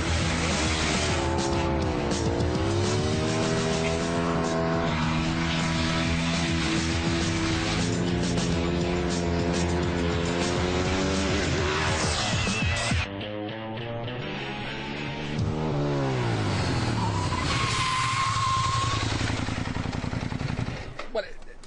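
A Ducati 1098 motorcycle racing a Lamborghini Gallardo Superleggera, a loud engine wailing through rising and falling gear changes, then a brief drop and another climbing rev, with voices mixed in.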